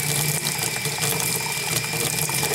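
Hot tap water runs steadily into a sink as a continuous close splashing rush, with faint rattling underneath and no talking.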